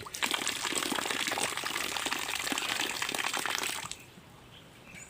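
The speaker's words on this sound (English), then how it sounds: "That's how we typically wash our face." Tap water running in a steady gush during face washing, close and fairly loud for about four seconds, then abruptly shut off to near quiet.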